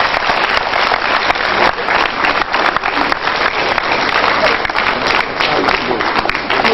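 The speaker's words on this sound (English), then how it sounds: "can we have a big round of applause for the governor?" A crowd at a public relations institute's annual general meeting in Lagos applauds the governor, dense sustained clapping that stays loud and steady throughout with some crowd noise mixed in.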